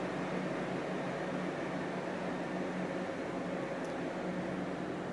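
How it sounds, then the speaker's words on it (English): Wind tunnel fan running steadily in an aerodynamics laboratory, a loud, constant broadband roar with an even hum and no pauses or talk throughout. "The fan noise going around the tunnel."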